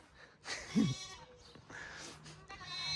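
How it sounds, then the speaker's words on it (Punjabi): A goat gives a short, wavering bleat nearby, followed by quieter bleats and rustling in an outdoor village setting in Switzerland. "ਹੁਣ ਨਾ ਤੁਹਾਨੂੰ ਅਸੀਂ ਬੱਕਰੀਆਂ ਕੋਲੇ ਲੈ ਕੇ ਚੱਲੇ ਆ"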